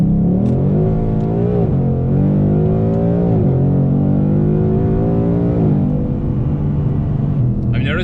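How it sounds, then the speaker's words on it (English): Ford Mustang on square wheel setup accelerating on a test drive, with a loud, steady engine drone rising and falling in pitch through several gear changes, interior perspective, close. "let's go for a quick test drive and see if we actually notice a better difference when we're driving"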